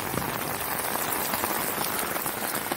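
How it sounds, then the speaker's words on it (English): Storm rain patters steadily on a surface nearby, a continuous crackling hiss with scattered louder drops. "It's raining. It's storming at least, right? It's actually storming."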